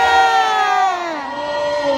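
A crowd of children at a bubble show shouting a long, loud "yeah" together in a sustained cheer that slowly falls in pitch.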